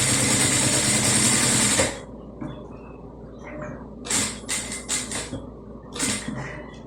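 A sewing machine runs steadily for about two seconds while stitching a fabric bucket bag, then stops, followed by scattered soft clicks and handling noises.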